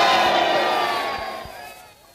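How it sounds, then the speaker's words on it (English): A vast crowd cheers and roars on VE night in an archival recording, the massed voices loud at first and then slowly fading away. "As the sound of those cheers die away"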